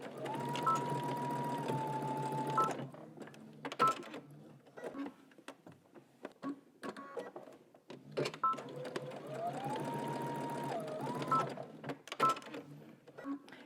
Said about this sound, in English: I'm gonna back stitch and just stitch until I meet the existing stitching